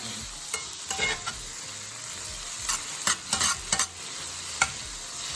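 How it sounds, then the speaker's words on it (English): Minced garlic being folded into jerk-seasoned mushrooms in a cast iron skillet, with scattered sharp scrapes and stirs over a steady soft sizzle, close and moderately loud, no voices. "We're just gonna fold the garlic in."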